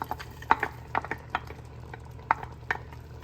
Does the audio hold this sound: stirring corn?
yes